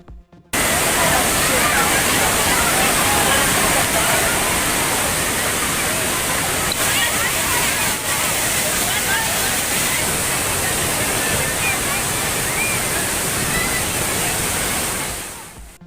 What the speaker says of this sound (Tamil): அருவியில் குளித்தும் பரிசல் சவாரி செய்தும் உற்சாகம்.